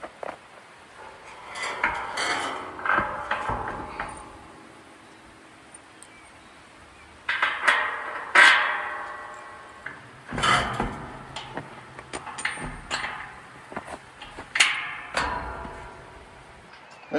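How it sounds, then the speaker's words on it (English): Legs being fitted into holes and bolted onto a hunting blind: scattered metallic clanks, scrapes and knocks in uneven bursts with pauses between, close by and moderately quiet. "get it stabbed in these holes and bolt it on"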